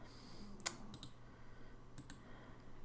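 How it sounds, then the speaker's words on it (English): A computer mouse gives a few faint, sharp clicks, one crisp click early on and then sparse pairs, each short and isolated against a quiet room background. "I'm just right clicking where I want it to end."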